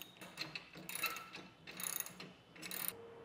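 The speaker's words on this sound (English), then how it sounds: "we're gonna go beneath and start tightening these bolts down with a half inch socket" A ratchet with a half-inch socket tightens the mounting bolts of a Pace Edwards UltraGroove retractable tonneau cover underneath a truck bed. It makes a few short bursts of quiet, close clicking, with no talking.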